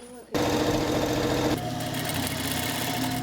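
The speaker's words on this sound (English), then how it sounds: "The sound of sewing machines is constant, with tailors busy with OEM orders." Tailors' sewing machines running while stitching cloth masks for OEM orders in a fabric market, a steady loud mechanical whirr that starts abruptly and continues without pause, close by.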